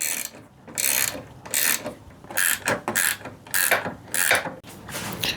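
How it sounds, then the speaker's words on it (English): Ratchet wrench loosening a wheel on a Toro TimeMaster mower during front axle and height adjuster repair, a series of rapid clicking bursts in an uneven rhythm with short pauses, close and alone. "let's use a wrench"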